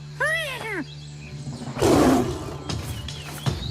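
A tiger roars in the French Mini Ninjas cartoon, a loud rumbling burst mid-scene amid music, effects and animated voices.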